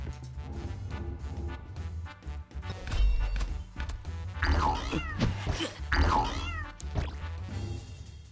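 A big cat meows repeatedly during a battle in the Lovebrush Chronicles video game, loud stretched cries rising over a busy game soundtrack.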